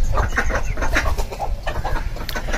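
Ducks in a small backyard mini zoo, pecking at spilled rice, give dense, close, overlapping quacks and clucking calls in irregular bursts throughout, with no talking.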